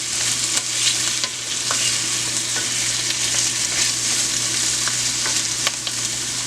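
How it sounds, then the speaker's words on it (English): Peppers being stirred into a hot pan for a Bajan codfish casserole, a steady close sizzle broken by frequent scraping clicks of the spoon, with a low constant hum underneath and no talking. "Throw those in there. Mix everything up nicely."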